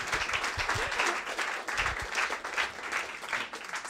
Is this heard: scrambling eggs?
no